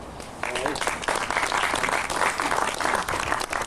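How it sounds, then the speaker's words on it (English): Audience at a defibrillator unit launch at a Garda station in Drogheda breaks into steady, dense applause that swells quickly and holds at a fairly loud level, with scattered voices mixed in. "That deserves an applause."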